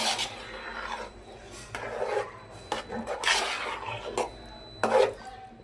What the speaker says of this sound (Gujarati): આ રીતે ચમચાથી હલાવતું જવાનું.